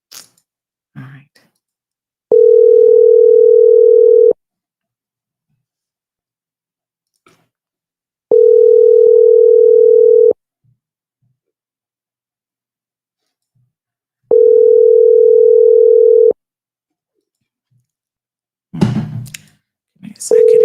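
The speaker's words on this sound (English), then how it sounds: "let's see if we can place this phone call" Three long, even telephone tones sound while a phone call is placed, each lasting about two seconds with quiet gaps between them. A few soft handling clicks and rustles are heard at the start and end.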